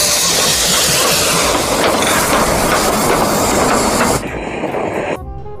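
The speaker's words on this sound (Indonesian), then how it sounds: "Wah, kalau yang ini kita mendapatkan kereta api Thomas." A toy Thomas train gives off a steady, loud rushing hiss with a rumbling rail-like roar that holds for about four seconds, then drops sharply and fades near the end.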